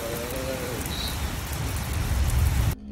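Heavy rain heard from inside a garage, a steady dense hiss of drops drumming on surfaces that swells slightly louder before cutting off abruptly.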